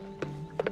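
Horse hooves clip-clop in a few close, distinct knocks, with a single hit followed by a quick pair, over a steady background hum.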